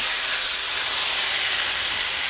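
A birria taco coated in sauce sizzles on a hot griddle, a loud, steady, close hiss that holds evenly from start to finish.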